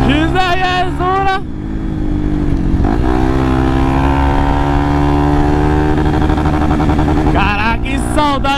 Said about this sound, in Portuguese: Faz tempo que a gente não anda de XRE.